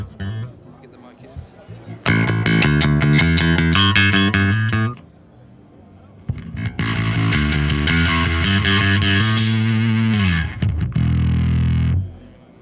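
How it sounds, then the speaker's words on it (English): Two loud bursts of overdriven electric guitar chords at the NAMM 2018 trade show, gritty and saturated, separated by a short quieter pause. "Here's a clean signal to start with, and then I'll introduce the distortion."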